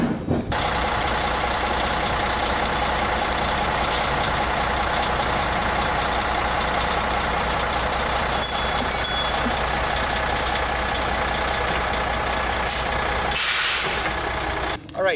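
A truck idles steadily close by, its engine a constant low rumble throughout, with a sharp hiss of released air brakes near the end as it is rolled forward a short distance during tire chaining.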